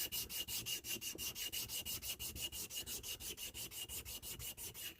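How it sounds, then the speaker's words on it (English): A steel knife blade for a slip joint pocket knife is hand-sanded with sticky-back sandpaper in quick, even back-and-forth strokes, about five per second, each a bright rasping scrape close to the listener. "So now we will do the blade. And this will clog up sandpaper"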